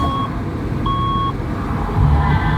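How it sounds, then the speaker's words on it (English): A radio station time signal, 680 News, plays two short, clear electronic tones in succession, then road noise from a moving car swells underneath. "at the sound of the double tones"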